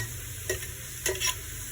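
Garlic browns in a hot pan with a soft, steady sizzle. Two or three quick stirring scrapes break through close up, and no voices are heard.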